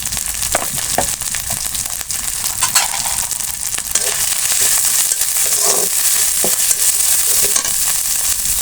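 Chili powder, spices and a green chili are sautéed in a frying pan, giving a continuous sizzle with scattered crackles and scraping stirs that grow a bit louder and denser in the second half, with no voices.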